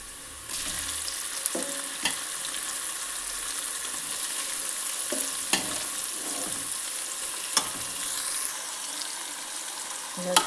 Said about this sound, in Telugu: ఇలా గోలిన తర్వాత చికెన్ వేసుకోవాలి.